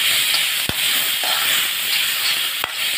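Tomatoes sautéing in a pan for churanga masala curry give a steady, close sizzling hiss that runs throughout, broken by two sharp utensil clicks.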